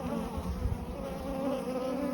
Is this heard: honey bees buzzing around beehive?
yes